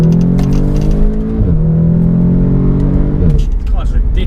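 An Audi S3 on new tyres drives around a roundabout with a steady, loud engine and road drone. The pitch falls briefly twice, with wind noise throughout and a voice talking over it.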